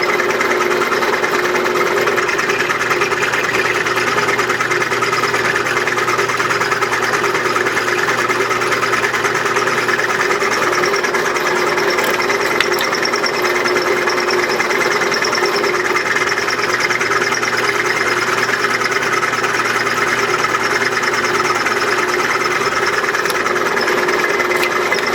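A belt grinder with a brand new 120 grit belt runs steadily while flattening a stock removal knife, giving a loud, continuous abrasive whir with a constant motor drone and no pauses.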